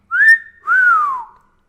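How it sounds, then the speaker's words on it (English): A person whistles two tones, breathing in on the first and out on the second: a short rising note, a brief gap, then a longer slowly falling one, close and clear with nothing behind. "I can whistle in and out."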